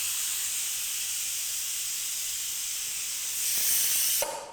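A pressure cooker lets off a steady, loud hiss of venting steam, rising slightly in intensity before cutting off abruptly near the end, heard alone without speech.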